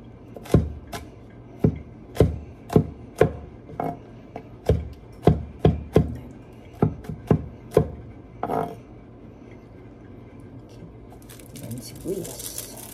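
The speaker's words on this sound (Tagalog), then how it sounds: "So, balat tayo ng bawang." Garlic being peeled and cut with a knife on a board for adobong sitaw, giving a series of sharp, close chopping taps in uneven rhythm with pauses, over faint room noise.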